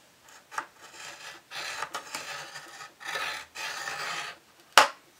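Scoring tool drawn along paper or cardstock for a small box, several separate raspy scraping strokes of varying length, close and fairly quiet, ending in a short sharp snap-like tick.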